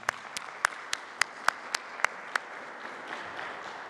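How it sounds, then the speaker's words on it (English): Audience applause for a game development team after a conference talk mentions their Carmen Sandiego game, heard as a brief run of separate, evenly spaced claps that fade out after about two and a half seconds. "can I get a round of applause for the team"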